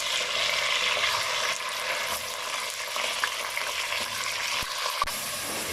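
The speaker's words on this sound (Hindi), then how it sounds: "दो से 3 मिनट जो चिकन को अच्छी तरीके से भून लेंगे" Chicken sizzles and fries in a pot with golden onions and a splash of water for biryani, a steady close hiss broken by occasional stirring clinks.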